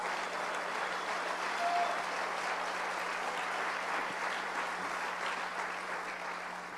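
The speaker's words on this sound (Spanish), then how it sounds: "Dele un aplauso fuerte al Señor." Sustained applause from a church congregation during a Spanish-language service, a soft, even wash of many hands clapping at a distance, holding steady for several seconds and tapering slightly at the end.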